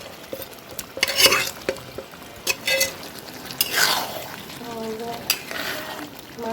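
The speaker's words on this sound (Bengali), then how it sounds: "এখন মাংসগুলো কষাই নেব" Chicken pieces and potatoes stirred and fried in a pot for a Bengali chicken curry, with a steady sizzle broken by scraping spoon strokes and occasional clinks of utensil against the pan.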